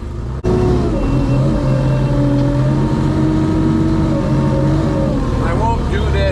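A loader throws rock back through a gravel screener on a rainy day, its heavy engine droning loud and steady throughout, with a slight rise near the end.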